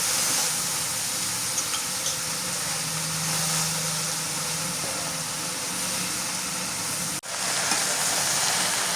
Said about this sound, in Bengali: দিয়ে দিই এবার রসুন আর মরিচ দিয়ে শাক ভাজি